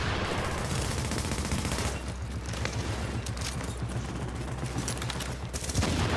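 Rapid, dense video-game gunfire fills a shooter match, a steady loud fusillade of overlapping automatic shots with no break for the whole stretch.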